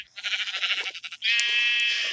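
Braying donkey calls from a Minecraft-style Skyblock game, a series of harsh, wavering cries followed by one long sustained bray, fairly loud and close with no talk over it.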